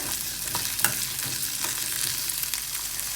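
Shallots sautéing in three spoons of coconut oil in a pan, a steady close sizzle and frying hiss with scattered stirring clicks and scrapes, no talking.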